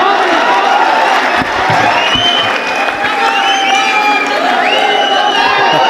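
A large crowd at a poetry gathering at BHU claps and cheers loudly, with whoops and shouted voices rising over dense applause throughout.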